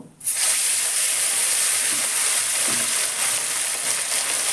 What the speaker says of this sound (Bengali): এবার নাজাটা ভেজে নেব